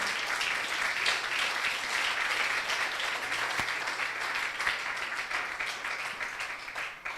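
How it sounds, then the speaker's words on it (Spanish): Sustained applause from a church congregation during a Spanish-language sermon, dense and steady throughout, a broad wash of clapping heard from within the room. "Dele ese aplauso al Señor."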